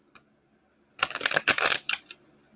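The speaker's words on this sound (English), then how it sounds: "I'm going to shuffle on camera the tarot portion." A brief, close burst of tarot cards being shuffled, a dense papery riffle lasting about a second after a faint tap, with no voices.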